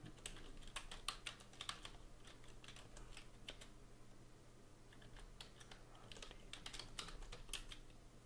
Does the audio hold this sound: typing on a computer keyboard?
yes